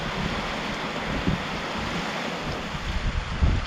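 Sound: strong typhoon wind

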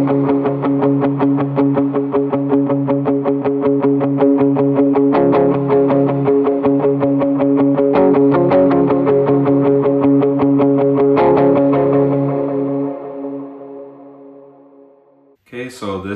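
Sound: electric guitar playing a reverb preset on a worship pedalboard

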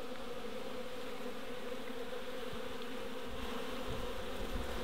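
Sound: honey bees buzzing in an opened hive

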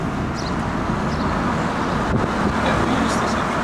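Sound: buses passing in road traffic

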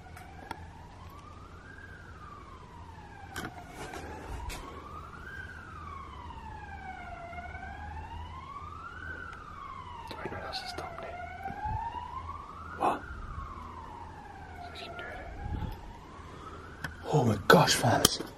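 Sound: police sirens

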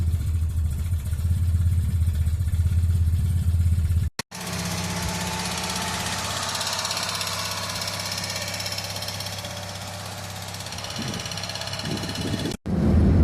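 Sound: Fiat Cinquecento 700 driving

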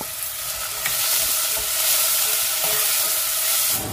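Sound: whole garlic bulbs frying in oil

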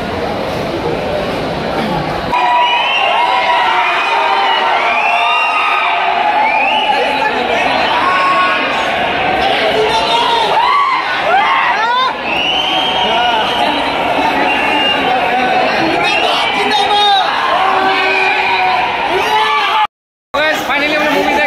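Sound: crowd cheering in a cinema hall

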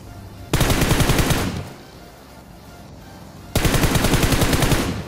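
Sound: gunfire in BGMI video game

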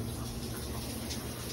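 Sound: cold water running in the shower

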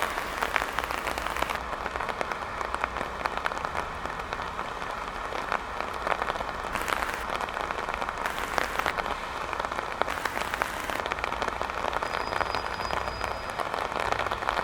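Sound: rain getting heavier

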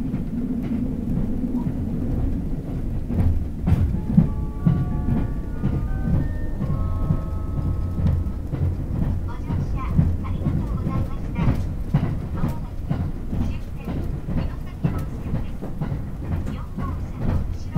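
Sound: limited express Kinosaki train running on rails

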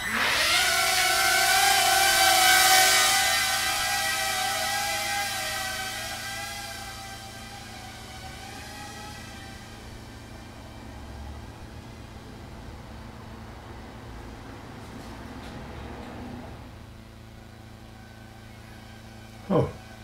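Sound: tiny FPV quadcopter drone flying outdoors

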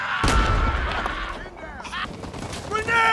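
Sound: gunfire and artillery in the video game Rising Storm 2

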